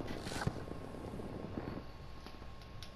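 VTOL jet in Battlefield 2042, a faint steady whine and rumble of aircraft engine droning in the background with a brief thump, low in level with no speech.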